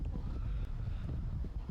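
Steady roaring wind buffeting the microphone at a wet, cold night soccer match, low and rumbling, continuous throughout, no voices.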